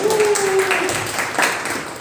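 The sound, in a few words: audience applause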